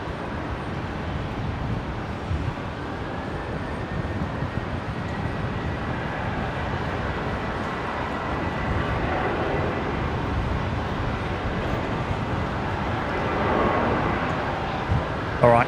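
A Qantas airliner bound for Sydney begins its takeoff roll at Brisbane Airport, heard from a distance as a broad, steady engine rumble that slowly swells near the end.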